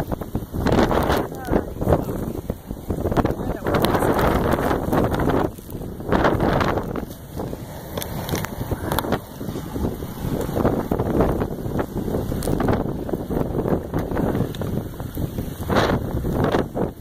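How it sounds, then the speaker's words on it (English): Gusty wind buffets the microphone outdoors on a South Dakota family trip, loud rumbling bursts rising and falling throughout, with speech mixed in among the gusts. "It's getting gusty on us."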